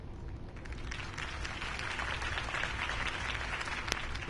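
A large crowd in a video game applauds steadily, a dense wash of clapping that holds at an even level throughout, with no talking over it.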